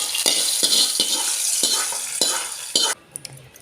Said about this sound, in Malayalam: ഇനി നമ്മുടെ കറിയിലേക്ക് ഒഴിച്ചു കൊടുക്കാം.